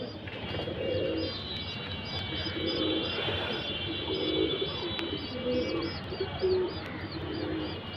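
Several pigeons coo in repeated low, soft phrases outdoors, joined by higher chirps from other birds over a steady background hum.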